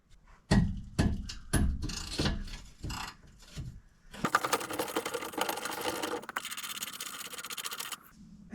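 A 19mm bolt is worked off a GMC Sierra chassis, starting with several sharp rhythmic ratchet clicks and scrapes, then a long continuous whirring buzz from a power tool that stops abruptly, close and fairly loud.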